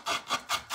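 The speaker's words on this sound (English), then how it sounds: "I've started using an emery board" Emery board sanding the wooden edge of a thrift store magazine rack: four quick, close, raspy rubbing strokes in a steady back-and-forth rhythm.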